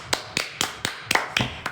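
A few hand claps from radio DJs in a studio, about seven crisp close claps in a loose rhythm, alone without talk.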